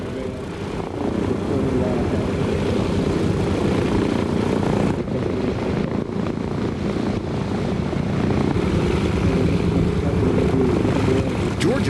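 A Fairchild C-119 Flying Boxcar propeller aircraft drones steadily overhead near Florida's Space Coast, a loud continuous engine rumble filling the whole stretch with little change in level.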